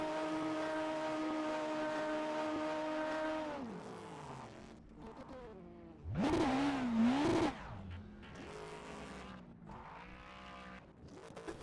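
Racing car in the rFactor 2 sim at Interlagos with its engine howling steadily at high revs, then dropping and surging into a loud tyre-burning squeal and roar before settling back to a rough idle.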